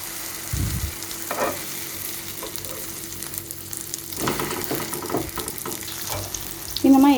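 A capsicum masala omelette sizzling in a pan just after being flipped, a steady close frying hiss with a few clattering knocks of a spatula against the pan.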